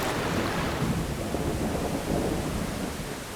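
Heavy wet-season rain pours down in a wild bear habitat, a dense, constant roar with low thunder rumbling beneath it, loud and unbroken throughout.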